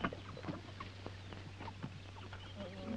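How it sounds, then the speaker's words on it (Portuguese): A brooding hen sitting on eggs gives soft, faint clucks in a 1958 film scene. The clucks come scattered and low under a steady old-soundtrack hum and hiss. "Galinha. Tá choca, né?"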